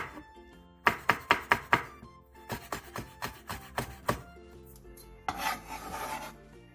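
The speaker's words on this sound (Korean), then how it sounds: "부추 크게 한 줌을 손가락 길이 정도로 잘라주세요." A big handful of chives cut into finger-length pieces with a knife on a board, two quick bursts of crisp chopping strokes, about five and then about eight, followed by a softer rustling scrape; close and clear, no voices.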